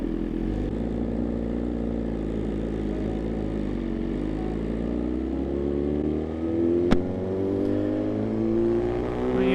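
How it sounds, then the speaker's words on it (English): Motorcycle ridden on an open road on a clear day, carrying a passenger: a steady, loud engine drone with wind rush and a slowly rising and falling pitch as it cruises, with one brief sharp click partway through. "God, you gotta love this bike, all the sounds that it makes"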